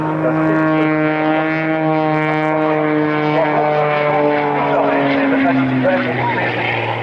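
A roughly 500 kg unlimited-class aerobatic airplane with a 320 hp engine drones loudly at an evening airshow, its steady harmonic engine tone shifting in pitch as it passes, with a voice speaking over it.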